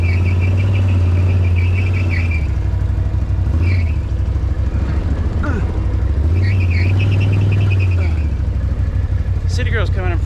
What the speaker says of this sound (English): What is that squealing noise?